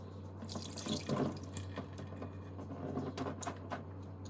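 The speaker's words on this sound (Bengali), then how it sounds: "মাংসগুলোকে একটু ধুয়ে নিই।" Chicken breast meat being rinsed under a running kitchen tap, a steady hiss of flowing water into a sink with soft splashes and handling noises, close by and with no talking.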